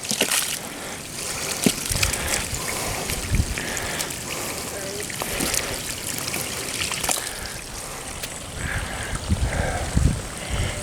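Fresh river water trickling and gurgling through an inlet into a shrimp pond at a rising tide, a steady close wash of flowing water with outdoor ambience and a few brief knocks.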